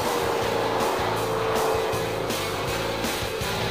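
Mercury Marauder with a 4.6-liter dual overhead cam V8 driving, a steady, loud engine drone with pulsing low rumble and tire and road noise, heard from inside the car without talk.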